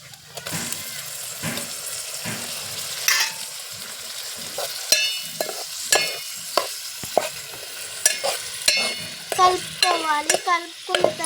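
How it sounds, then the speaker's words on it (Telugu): Mutton being stirred and fried in a pan with spices, giving repeated scraping stirs and soft sizzling in an irregular rhythm, close and moderately loud, no talk. "కలిపిన తర్వాత మటన్ వేసుకోవాలి."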